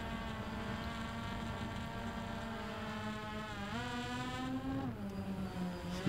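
A steady, loud multi-rotor whine from a Hubsan X4 Pro quadcopter on its first hover test, with strong harmonic tones that rise in pitch partway through, then dip and climb again as the motors change speed.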